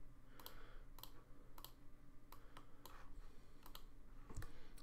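A single key press on a computer keyboard during CAD work, surrounded by several faint, scattered clicks and taps, quiet and close with no talking.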